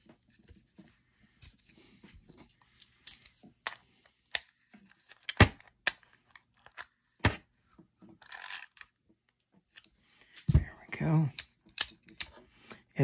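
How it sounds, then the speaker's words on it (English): A nut is screwed back onto a Bronson Buddy No 800 fishing reel: sparse, faint small metallic clicks and ticks at irregular intervals, with a slightly busier patch of handling noise near the end. "we'll screw the nut back on."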